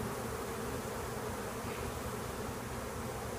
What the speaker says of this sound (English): It looks like there's some bees starting to boil out of here now